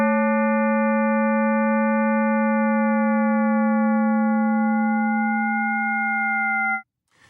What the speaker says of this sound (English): the same version, but with the fundamental held fixed at 220 Hertz to help us hear the changing chord